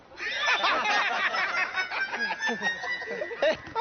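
A hen clucks repeatedly in quick, busy bursts, close and fairly loud, with a brief crowing-like call mixed in.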